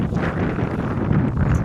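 Strong wind at a seaside park on Bantayan Island, a loud, steady rushing roar buffeting the microphone throughout with no talking.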